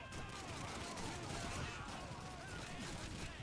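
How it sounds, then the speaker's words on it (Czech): Dense gunfire from the World War II shooter Call of Duty 2, a steady wash of rapid shots and battle noise that fills the scene, quite faint overall, with no clear talk over it. "Tam někdo střílí."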